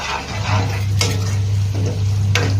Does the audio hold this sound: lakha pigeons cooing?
no